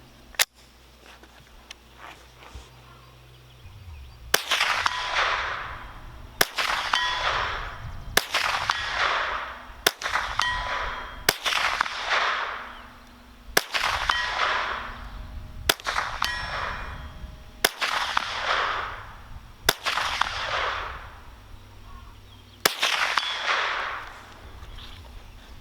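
Marlin Model 795 rifle fired at a target 100 yards away, about eight sharp cracks spaced two to three seconds apart, each ringing out with a metallic clang-like tail, loud and close with no talking.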